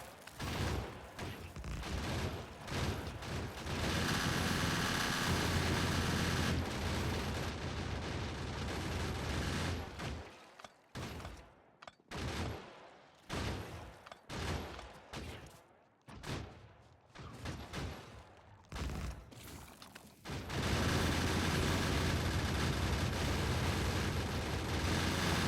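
Grenades blowing up in Factorio, a dense barrage of loud blasts and rumbling booms that breaks into separate bursts midway, then swells back into a continuous roar.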